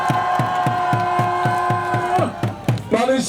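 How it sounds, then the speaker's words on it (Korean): A crowd at a patriotic political rally in Pohang cheers and claps in a steady, repeated rhythm beneath a sustained droning tone, loud and close, before the pattern breaks up into looser cheering. "박수 부탁드립니다"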